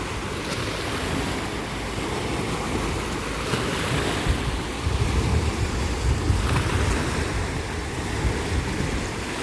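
Ocean waves wash and surge continuously, with a low rumble of breaking surf swelling midway, mixed with wind buffeting the microphone.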